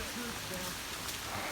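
Steady rain pours outdoors while a 1966 Dodge Charger is loaded onto a trailer, a dense, even hiss of drops that runs unbroken from start to finish.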